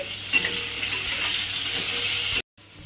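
Potatoes frying in oil with salt and turmeric, a loud steady sizzle with occasional stirring scrapes, close by, cutting off abruptly before resuming briefly.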